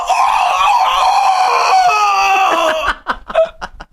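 A person imitates a chicken scream with a loud, shrill, wavering squawk lasting a few seconds. It breaks into choppy laughter and excited voices at the end.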